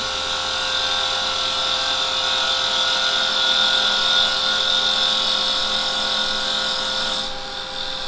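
A carbide chisel cuts wood spinning on a lathe, making a loud continuous whirring, high-pitched scraping whine that holds steady for several seconds before easing off at the end.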